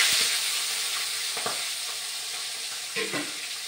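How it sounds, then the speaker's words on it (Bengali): A fish head fries in oil heated a long time, giving a loud, continuous sizzling hiss with a few sharp crackles and spoon scrapes, no talking. "তেলে মাছ দিলে না কেমন ফটফট করে একদম মনে হয়"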